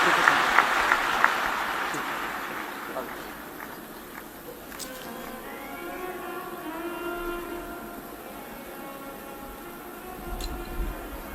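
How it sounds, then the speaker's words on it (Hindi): Loud crowd applause at a live Shiv Mahapuran religious discourse in India, a dense rushing clatter that peaks at the start, fades gradually over about ten seconds and swells slightly again near the end. "एक बार जोरदार ताली बजाते।"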